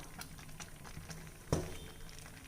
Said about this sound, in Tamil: பாருங்கள், ஓரமெல்லாம் நல்லா கொதிச்சு வருது.